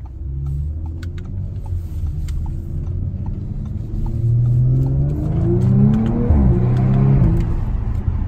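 An Audi RS7 engine rumbles and revs up, its pitch climbing steadily as it accelerates, loud and close with no talking.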